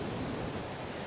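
Svandalsfossen waterfall throwing spray, a dense, steady broadband roar that fills the air close by, with no pauses or voices.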